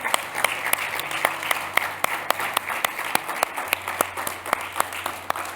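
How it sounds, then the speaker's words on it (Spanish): A church congregation claps along in a steady rhythm during a service, with a low hum underneath and a few sharper individual claps standing out. "Dale un aplauso a Dios"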